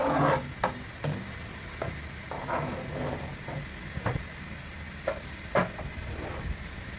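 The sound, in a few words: stirring pancit canton in a frying pan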